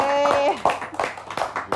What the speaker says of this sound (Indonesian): Tepuk tangannya dulu dong